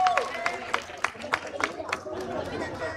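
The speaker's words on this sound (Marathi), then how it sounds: "टाळ्या वाजवते सर्वांनी, टाळ्या." Audience at a premier league prize distribution ceremony clapping in scattered, uneven bursts amid crowd chatter, moderately close, with voices murmuring underneath.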